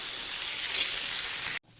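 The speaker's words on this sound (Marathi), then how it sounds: "हे एक उकडलेला बटाटा आहे तो घालायचा आहे आणि परतून घ्यायचा आहे" Chickpeas and boiled potato sautéing in a hot pan give off a steady, fairly loud sizzle that holds evenly, then cuts off abruptly near the end, leaving only faint room noise.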